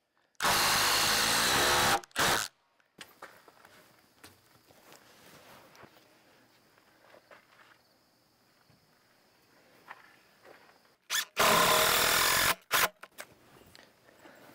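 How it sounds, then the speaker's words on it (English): A power driver sinks HeadLok screws into the wooden beams of a post-and-beam firewood shed in two loud bursts of about two seconds each, separated by quieter handling, shuffling and knocks. "Let me put some more headlocks in."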